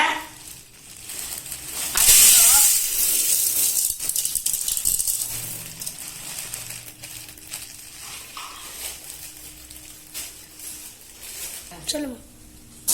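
Dry chana dal poured into a pan and roasted, a loud rattling cascade of lentils hitting metal, followed by quieter scattered rattles and stirring, with a person talking throughout.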